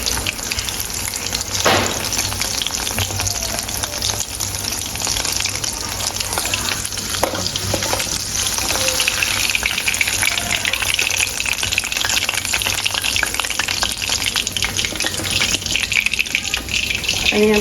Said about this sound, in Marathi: तर मी हे सगळी फ्राय करून घेतं आणि बोंबील पण जरासं आहे ते पण फ्राय करून घेतं